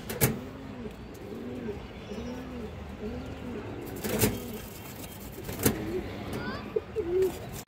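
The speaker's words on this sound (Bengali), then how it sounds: "খুব সুন্দর একটা মাদি কবুতর এবং ভালো ব্লাড লাইনের কবুতর, ভালো লোকের কবুতর।" Repeated cooing from a female pigeon in a loft, a steady series of soft rounded coos close by, with a few sharp knocks and scattered chirps from other birds around.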